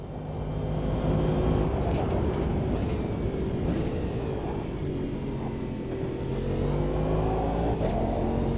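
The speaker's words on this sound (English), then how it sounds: "Yeah, I can drive this car for quite a while." An electric race car driving laps on a track gives off a loud, continuous motor whine whose layered tones rise and fall with speed, carrying steadily throughout with no talking.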